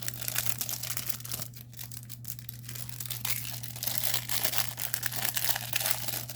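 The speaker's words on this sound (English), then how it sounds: "I'm just going to crumple it up a little bit" Iridescent film being crumpled by hand for a resin art piece, a steady run of crisp crinkling and rustling close to the mic over a low constant hum.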